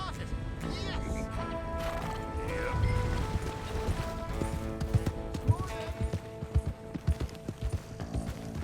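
Horse hooves gallop in the Red Dead Redemption 2 video game, a quick, rhythmic clip-clop that grows sharper toward the end. Voices and music play alongside.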